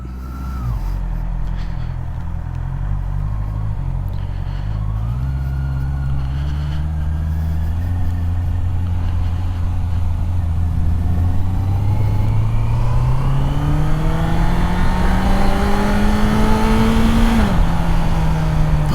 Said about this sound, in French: Oh là là, le bruit du 4 cylindres